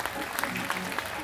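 A crowd at a live Punjabi music show claps in a quick, fairly faint patter with a few sharper individual claps standing out.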